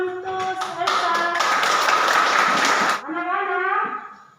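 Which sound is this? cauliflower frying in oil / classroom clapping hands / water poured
classroom clapping hands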